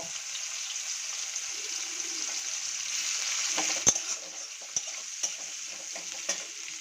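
Onion frying in spiced oil for a catfish (aar) curry: a soft, continuous sizzle with a few sharp clicks and scrapes of stirring scattered through.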